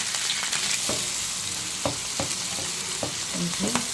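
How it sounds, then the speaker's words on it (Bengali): Onion, green chili and shrimp sizzling together in hot oil in a home kitchen pan, a steady loud frying hiss broken by several sharp stirring scrapes and clinks. "আমি পেঁয়াজ কাঁচা মরিচ আর চিংড়ি মাছটা একসাথে একটু ভেজে নিচ্ছি"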